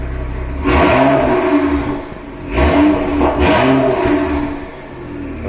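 BMW X6 M engine being revved in bursts, each throttle blip rising to a loud exhaust roar and falling back toward idle, about three revs in close succession, close and alone with no talking.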